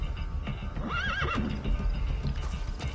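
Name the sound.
horse neighing and hooves in Metal Gear Solid V video game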